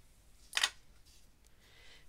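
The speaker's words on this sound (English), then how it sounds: "I have some normal machine thread here, so I'm going to cut myself a length of that" One short, crisp snip of scissors cutting a length of ordinary machine thread, close and soft in a quiet room, followed by faint rustling.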